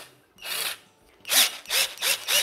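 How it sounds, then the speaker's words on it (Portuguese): A cordless screwdriver drill spins an old kitchen mixer whisk in short whirring bursts, one brief run followed by four quick pulses rising and falling in pitch. "Eu uso a minha parafusadeira. Eu tenho esse fouet antigo aqui de batedeira de cozinha."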